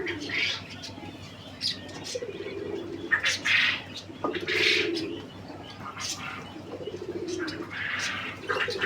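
A Jacobin pigeon kept in a cage, with bent legs and unable to stand, coos in repeated low rolling calls, while other birds chirp and tweet close by throughout.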